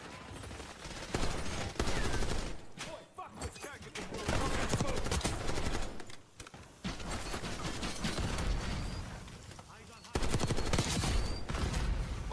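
Video-game gunfire crackles in dense, rapid bursts with mechanical clatter, loud and close, broken by brief gaps, while a voice talks over parts of it.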